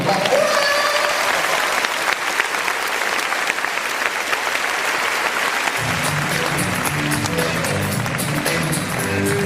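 Audience applause at the Miss Midi-Pyrénées 2012 beauty pageant election in Valence d'Agen, a dense, loud, sustained clapping from a crowd, joined partway through by music with a steady beat.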